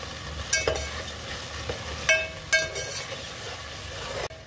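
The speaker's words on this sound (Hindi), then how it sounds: "इसमें हम अदरक लहसुन ऐड कर देंगे, जिसको मैंने अच्छे तरीके से कूट लिया था" Crushed ginger and garlic hit a hot pan, giving a steady sizzle and frying hiss with a few sharp stirring scrapes and clinks, close and fairly loud, no talking.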